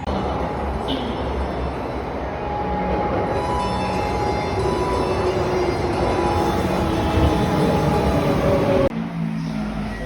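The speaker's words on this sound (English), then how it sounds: "I think my train is coming." A subway train arriving at an underground station in Kyoto rumbles and roars steadily close by, a continuous rolling noise with faint metallic squeals, cutting off abruptly near the end.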